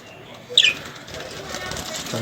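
A brief burst of wing flapping from budgies or lovebirds flying in a large cage, a soft flurry near the middle against a quiet room.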